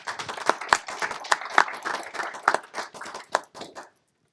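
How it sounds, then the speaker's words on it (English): Applause for a panelist at a payments and remittance compliance conference, a ragged burst of many hands clapping at moderate distance that thins out and stops after about four seconds. "A huge round of applause for Richard Spink."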